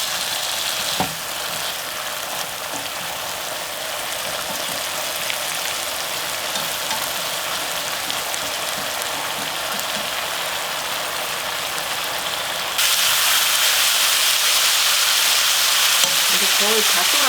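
Braised burdock root bubbles and reduces in a pan with a dense, steady sizzling hiss, a faint clink early on, and the sound growing slightly louder and brighter toward the end.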